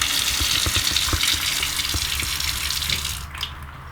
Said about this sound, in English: Now the sink is on